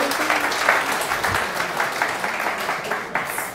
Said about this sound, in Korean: 정말 여러분 박수 좀 보내주세요 우리 케빈님.